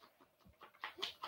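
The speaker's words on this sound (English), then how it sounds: "Yeah, that was my dog." A dog pants and whimpers in short, uneven breaths and soft whines, faint and fairly close, over a quiet room.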